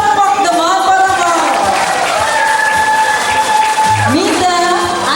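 An audience claps and cheers steadily at a recognition ceremony for women in government service, a dense, continuous roar under tonal music or voices.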